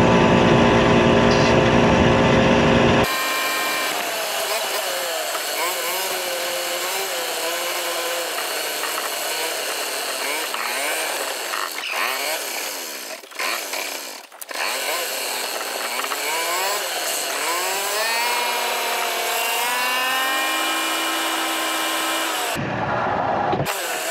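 A golf cart engine runs steadily and loudly for most of the stretch, with a sustained mechanical drone and a few revving rises near the middle and end. No one speaks over it.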